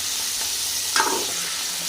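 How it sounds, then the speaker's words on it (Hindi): Steady sizzling and crackling of chicken frying in hot oil, with a brief sharper spatter partway through as water from a spoon hits the oil. "वो थोड़ा सा पानी था चमचे को लगा हुआ तो ऑयल में जाके वो कड़कड़ाने लग जाता है"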